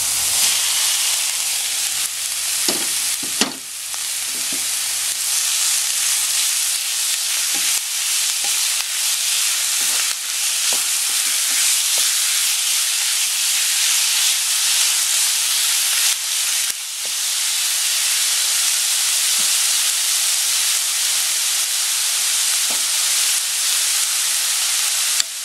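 Ground beef and carrot frying in a pan for lasagna pasta: a loud, steady sizzle and hiss throughout, with occasional soft scrapes and taps of stirring and no talk.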